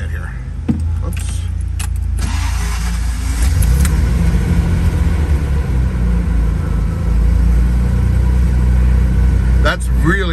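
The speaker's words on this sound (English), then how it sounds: "This car hasn't run in a few weeks, but it usually really starts great." A 1973 Jaguar E-type engine, not run for a few weeks, turns over and catches, then settles into a steady, low, loud idle rumble heard from inside the car, with a person talking over it.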